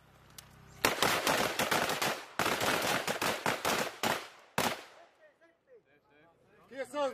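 U.S. Marines and Filipino troops fire rifles in close quarters battle training, a loud, rapid volley of overlapping shots that lasts several seconds. A lone final crack follows, then quieter shouted voices.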